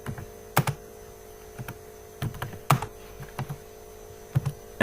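Keystrokes on a computer keyboard while programming in Turbo Pascal, coming in short bursts and single taps over a steady low mains hum, with no talking.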